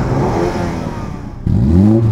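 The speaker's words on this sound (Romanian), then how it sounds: "hai să vedem și cum se aude Mini Cooper S în modul sport" A Mini Cooper S Cabrio engine in sport mode idles with a rough burble, then revs sharply upward, loud and close, rising in pitch with no talking.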